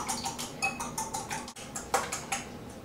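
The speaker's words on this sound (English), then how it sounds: "So now we're going to beat these 4 egg yolks with 1 egg white." Four egg yolks and one egg white beaten in a bowl: rapid, steady clinking and tapping of a utensil against the dish, close and continuous, with no talking.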